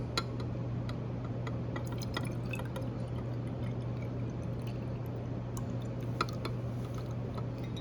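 Bromothymol blue solution trickles and drips steadily into a glass graduated cylinder for several seconds, a soft continuous liquid patter over a low steady hum, with no voices.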